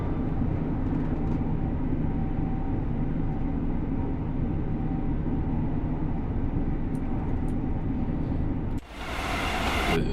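Steady rumbling rail ride inside a train in Great Western Express Remastered, a smooth continuous rolling drone that holds for most of the stretch before a sudden hissing rush cuts in near the end.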